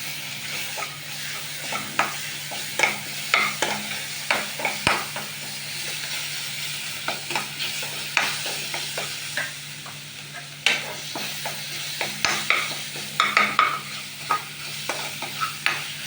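Browned onion with garlic-ginger paste frying in a pan for a fish Malabar curry, a steady sizzle broken by repeated scraping stir strokes of a spoon, close and loud with no talk.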